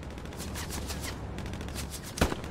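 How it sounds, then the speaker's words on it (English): Gunfire in the Hell Let Loose WWII shooter: a rapid burst of distant rattling shots under a steady noise bed, then a single sharper, closer report near the end. "The shots are coming from directly on this ping."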